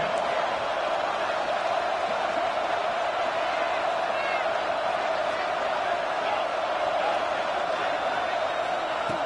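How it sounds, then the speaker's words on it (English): A stadium crowd in the College Football 26 video game roars steadily throughout, a broad sustained wash of cheering heard at a distance, with no individual voices standing out. "this crowd coming to life here, trying to help the defense get a stop with the offense pinned back"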